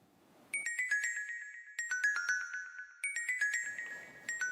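A phone rings with a bright electronic melodic ringtone, a quick tinkling pattern of tones repeated in three bursts, clear and fairly close with no talking over it.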